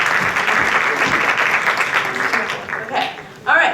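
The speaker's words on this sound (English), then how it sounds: "Let's make a round of applause for you supporting us for money." A temple audience at a devotional festival gives a steady round of applause, dense and fairly loud throughout, thinning near the end before a voice cuts in.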